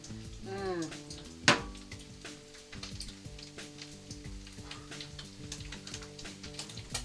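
Bacon frying in a pan with butter, ready for stir-fried mushrooms, giving a steady close sizzle with scattered small pops, one sharp loud crack near the start and a clink of a utensil.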